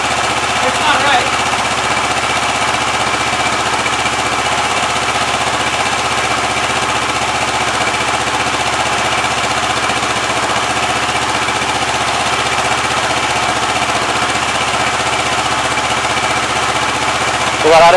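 A car engine runs steadily at idle after an oil change, a constant loud mechanical drone with a faint knocking edge and no clear change across the stretch.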